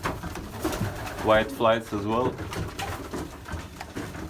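Pigeons coo in a breeding loft, a few rounded, repeated calls rising clearly in the middle of the stretch beneath a man's close, steady talking.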